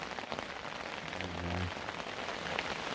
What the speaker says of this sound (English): and it's just started raining.